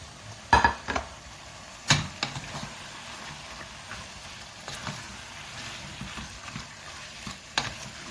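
Mutton with white and black pepper powder, dried coriander and salt is stirred in a pot, heard as scattered metallic scrapes and clinks over a low sizzle, with a few sharper knocks of the spoon against the pot.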